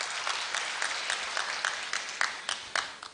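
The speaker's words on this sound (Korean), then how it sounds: "다시 한번 박수로 환영해 주시기 바랍니다" Audience applause at a Korea University degree-conferment ceremony, a sustained wash of clapping in a large hall with a few louder individual claps standing out, no talk over it.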